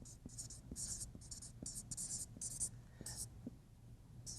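Pen or marker strokes scratch out words during a painting lesson on underpainting, a series of short, faint, rhythmic scrapes with a soft voice murmuring underneath.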